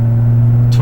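A Lexus IS250 engine holds a loud, steady drone at close range, rising toward a downshift and ending with a brief brighter burst.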